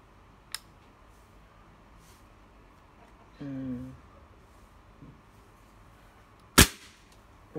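A Slavia 634 air rifle firing slug pellets gives two sharp cracks, a small one early and a loud, close one near the end, with a brief metallic squeak between them.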